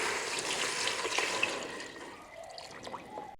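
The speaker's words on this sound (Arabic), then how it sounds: "هلا بعد ما تقلت عنا اللحمة والروايح بتفرط القلب، هلا رح ننزل عليها المي" Boiling water poured from close by into a pot of searing meat being cooked for freekeh, a steady splashing, bubbling pour that gradually quiets toward the end, with no talking.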